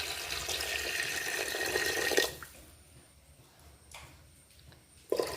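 Water pours into a pressure cooker holding lentils, a close splashing gush for about two seconds. Quiet drips and clinks follow.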